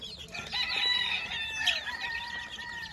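At a farm of Texas gamecocks and chicks near Mt. Banahaw, many chickens cluck and crow, with an overlapping crow standing out close by against a busy background of fowl.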